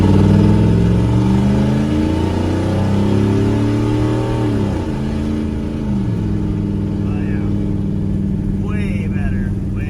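A Chevrolet C10 square body truck pulls away from a dead stop, its engine revving up loud and close before a gear change about halfway through, then droning on steadily.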